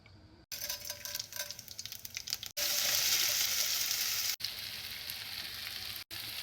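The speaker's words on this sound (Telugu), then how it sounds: "తాలింపు వేసుకుంటున్నాను" Tempering seeds crackling in hot oil for a chole snack, a dense loud sizzle with sharp pops, close up, cut into a few segments by brief gaps, no voices.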